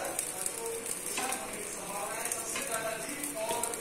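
A dosa cooking on a hot pan gives off a steady, close hiss of frying, with faint stirring and utensil sounds throughout.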